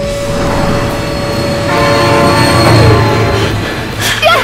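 A train rumbling past with a sustained horn blast over the loud, continuous roar of wheels, the tone holding steady before fading near the end.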